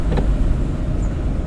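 A car engine drones steadily and close during a driving lesson as the driver shifts into fourth gear, a low continuous rumble with a faint brief click near the start.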